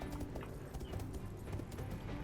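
Hoofbeats of Lu Bu's famous horse Red Hare in the strategy game Total War: Three Kingdoms, a rhythmic clip-clop of galloping hooves at moderate volume with faint background sound.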